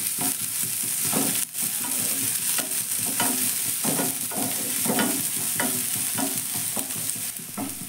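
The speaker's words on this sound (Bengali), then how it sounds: "আর সামান্য একটু আমি এই পেঁয়াজের সঙ্গে ভেজে নেব।" Capsicum and onion fry in a pan with a steady loud sizzle, while a utensil scrapes and stirs in frequent irregular strokes close by, with no voices.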